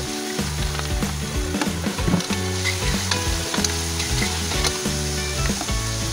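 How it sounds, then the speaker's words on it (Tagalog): Garlic and onion sizzle loudly in hot oil in a pan, a steady frying hiss broken by the scrape and clatter of stirring. "Isunod naman natin ang bawang at sibuyas. Gisa-gisa lang at maglagay ng konting patis."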